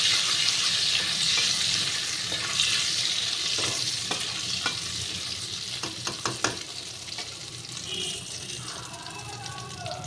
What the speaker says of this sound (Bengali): চিংড়ি মাছ মানে ভেজেছি তো, ওই জন্য তেলটা এরকম গেজা গেজা হচ্ছে।